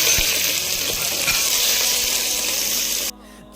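Onion and carrots frying in a pan for a paneer dish give off a loud, steady, close sizzle with stirring, cutting off abruptly near the end.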